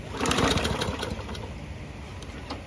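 A Murray gas lawn mower is pulled to start after priming, giving a short burst of rough mechanical chugging that fades without settling into a run.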